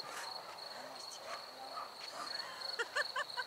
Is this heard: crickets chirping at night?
yes